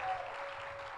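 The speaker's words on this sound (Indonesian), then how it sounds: "Kasih tepuk tangan lo yang meriah" Church congregation clapping during a worship service, a thin, fairly soft wash of applause from a room of people, steady for the brief moment with a faint tone lingering underneath.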